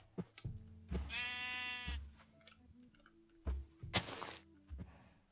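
Sheep bleating in the Minecraft video game: a single drawn-out bleat followed by short thumping game sounds and a brief rasping burst, close and clear with no talk.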